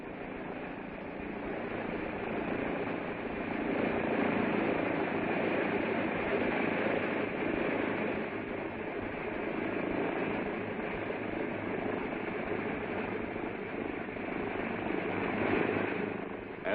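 Military aircraft, apparently a helicopter, approaching and taxiing into a landing zone during a 1969 Special Forces operation, a steady muffled engine drone heard at a distance and lasting throughout.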